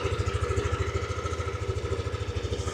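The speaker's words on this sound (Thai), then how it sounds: "เสียงท่อรถ" A 2022 Yamaha Aerox motorcycle idles up close, its exhaust giving a steady, even low throb with a rapid regular pulse throughout and no other sounds.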